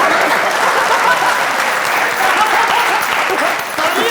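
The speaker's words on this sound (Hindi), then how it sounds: "तालियां।" Studio audience at a comedy show gives sustained, loud applause, thick even clapping with faint crowd voices mixed in.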